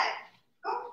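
A dog barks twice nearby, two short rough bursts separated by a brief pause, heard without any talk.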